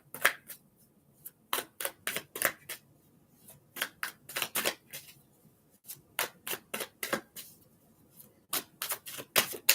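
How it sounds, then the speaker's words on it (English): Tarot cards being shuffled by hand in repeated quick riffling bursts, close and fairly crisp, with short pauses between rounds and no talking. "Well, they really want to be shuffled."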